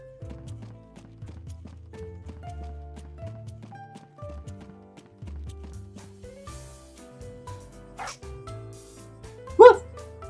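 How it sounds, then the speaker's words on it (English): A dog in the video game MapleStory 2 gives a short, sharp bark near the end, set among soft plucked game music and light footstep-like clicks, with a voice talking intermittently. "It's just a doggo."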